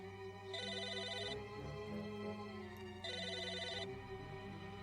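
A giant telephone rings in the video game Psychonauts, two bursts of bright electronic bell tones spaced a few seconds apart over a low, steady game music bed.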